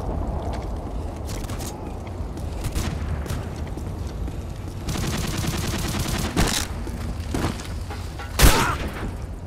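Rapid bursts of automatic gunfire and single shots in Call of Duty Modern Warfare 2 multiplayer, crackling continuously under game noise with a loud close blast near the end.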